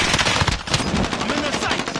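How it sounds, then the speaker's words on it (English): Rapid machine gun fire blasts through a Call of Duty match, a loud, dense stream of shots sustained for the whole two seconds, with game voices mixed in. "Enemy soldier nearby. Taking fire!"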